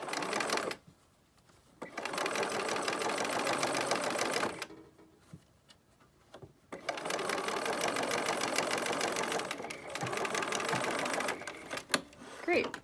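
A sewing machine stitching the seam of a fabric mask runs in long, steady whirring bursts with short pauses between, close and clear, as the fabric is fed through slowly.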